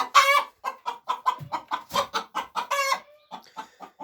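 Chickens clucking inside a chicken coop while eggs are gathered, a quick run of loud, close, choppy clucks and short squawks with a brief crow-like call, no talking.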